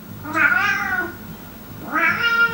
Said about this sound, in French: Mon chat arrive. Bébou, s'il te plaît, là par contre, faut pas miauler.